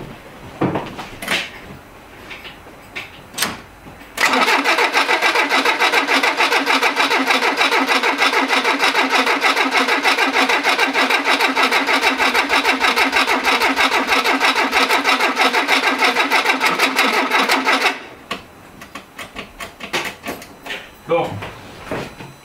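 An old Renault Trafic van, left in a barn for 23 years, cranks and catches after a few faint clicks and bumps. It runs loud and steady for about fourteen seconds before shutting off, with quieter handling noises before and after.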